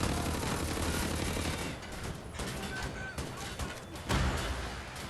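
Dual-wielded gunfire in the shooter game Wolfenstein: The New Order: rapid continuous bursts of shots crackling over a busy, fairly quiet combat mix, with a sharper blast near the end and no talking.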